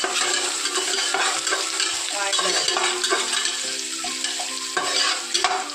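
Ginger garlic paste and green chillies fry in hot oil for a dried prawn biryani, a loud, continuous sizzle with scraping stirs and occasional clinks of a spoon against the pan.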